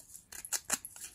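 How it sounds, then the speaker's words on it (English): Scissors snip along the edges of a paper art-journal page to distress them, giving a few short, close, crisp cutting sounds with faint rustling between, no voices. "I will also take my scissors and kind of distress the edges"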